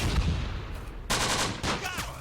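Machine gun fire in the Close Combat WWII desert battle game, sharp bursts of rapid shots in two or three clusters, fairly loud against a rumbling background.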